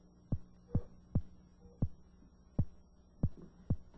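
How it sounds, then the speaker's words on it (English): An electric eel's electrical discharges, picked up by electrodes in its tank and played through a loudspeaker, come as soft low thumping pulses about twice a second, like a slow heartbeat over a faint hum. "if we put an electrode at each end of the tank, we can hear the electrical discharge on a loudspeaker."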